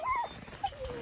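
A rescued dog at a remote Indigenous-style shelter without water or electricity gives a few short, close whimpering whines, rising then trailing off, with faint background noise.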